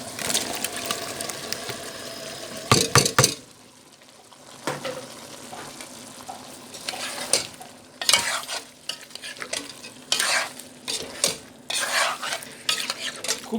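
Boiled mixed vegetables, carrots, cauliflower and long beans, sizzle in a hot pan while a metal spoon stirs and scrapes them, with loud clattering bursts between quieter frying stretches.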